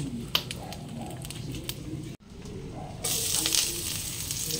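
Garlic sizzles in hot oil in a thin wok, a steady close frying hiss that brightens and grows louder near the end, with a brief break midway.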